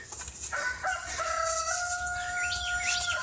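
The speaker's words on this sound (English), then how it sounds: "Rooster is very alive today. He's letting me know." A rooster crows outdoors, a clear drawn-out cock-a-doodle-doo at moderate distance, with faint clucking and other bird chirps in the background.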